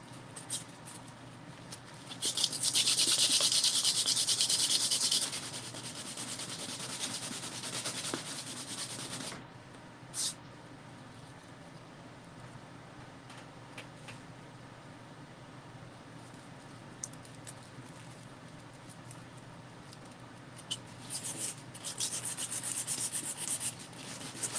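Sandpaper rubbed back and forth over a painted surface, a loud steady scratchy rasp for several seconds, then quieter intermittent scraping with a brief burst near the end.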